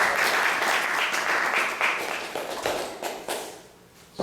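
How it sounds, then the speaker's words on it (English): An audience at an ISKCON temple in Atlanta applauds after a Sunday class, clapping loudly at first and then thinning into scattered, uneven claps that fade toward the end. "let's go down and applause for Geeta Mataji for this final class"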